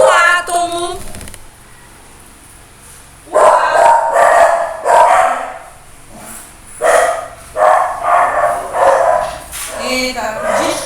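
A dog barks in several bursts from inside a home, loud and fairly close, with speech audible around the barking.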